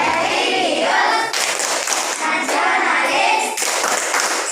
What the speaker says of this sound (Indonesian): Kita tepuk PPK dulu.